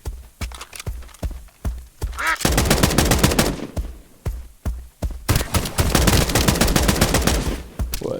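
Rapid gunfire in the video game Escape from Duckov, loud and near, in quick bursts of sharp shots broken by short pauses, with the strings of shots running together into dense volleys.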